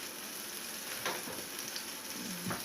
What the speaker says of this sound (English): my coffee water's boiling